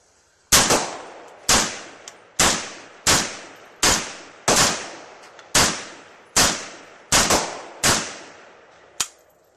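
Rifle shots ring out one after another, about nine sharp loud cracks spaced roughly a second apart, each with a short decaying echo, the last one slightly quieter.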